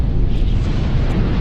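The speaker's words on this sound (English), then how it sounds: "Christ, what was that? Explosion." A large explosion in the L.A. Noire video game roars as a dense, sustained rumble heavy in the low end, loud and unbroken with no speech.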